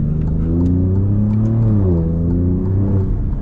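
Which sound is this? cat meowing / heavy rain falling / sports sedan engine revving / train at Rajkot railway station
sports sedan engine revving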